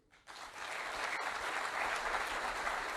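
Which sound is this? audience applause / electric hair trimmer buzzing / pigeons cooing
audience applause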